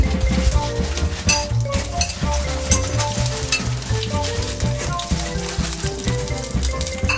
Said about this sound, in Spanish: Ya está el aceite caliente y añado la chistorra.